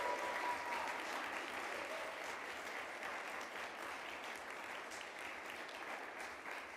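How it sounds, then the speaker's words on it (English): A dense, steady wash of audience applause fills a room during a city council meeting, holding at an even level for several seconds and easing off slightly toward the end. "Round of applause for Dr."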